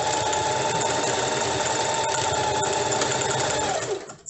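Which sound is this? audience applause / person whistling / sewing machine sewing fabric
sewing machine sewing fabric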